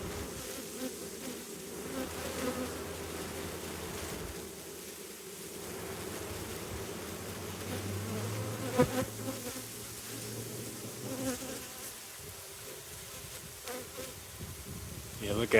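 Honey bees at a hive hum in a steady, faint swarm drone, fanning their wings in a continuous buzzing bed with no talking.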